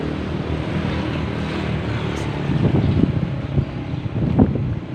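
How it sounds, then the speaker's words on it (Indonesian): An airplane rumbles near an international airport in West Java, a steady low drone mixed with wind buffeting the microphone and no one speaking. "Tuh pesawat."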